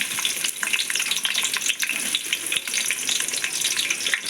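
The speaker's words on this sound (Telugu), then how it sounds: "నేను ఉల్లిగడ్డ ముక్కలు వేస్తున్నాను." Onion pieces fry in hot oil, giving a loud, continuous crackling sizzle with busy popping throughout and no talking.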